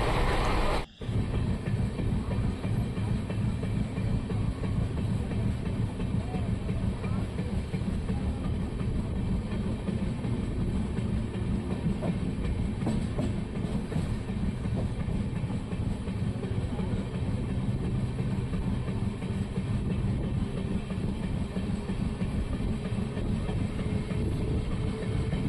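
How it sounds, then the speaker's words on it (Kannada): Inside a coach of a Solapur to Bangalore passenger express running at about 130 km/h, a loud continuous rumble and rattle of wheels and carriage dominate, with a brief sharp bump near the start and no talk. "ಈ ಟ್ರೈನ್ ಬೇರೆ 130ರಲ್ಲಿ ಹೊಡಿತಿದ್ದಾನೆ"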